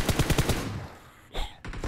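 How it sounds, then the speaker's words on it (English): Shotgun gunfire in the PUBG Mobile zombie mode, a rapid run of several close, loud blasts followed by a short pause and then two more bursts. "This guy with the shotgun's really close."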